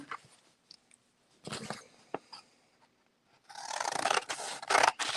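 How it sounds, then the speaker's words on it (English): Big scissors snipping a few times nearby during a loose bead sale, giving sparse short cuts, then a longer stretch of rubbing and scraping handling noise, with no talk. "Where are the big scissors?"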